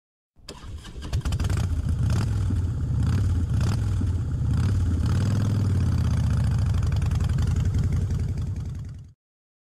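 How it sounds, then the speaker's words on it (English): A motorcycle engine runs steadily at a rumbling idle with a few revving surges, close and loud, with no voices. "Motorcycle."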